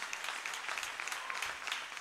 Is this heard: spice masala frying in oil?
no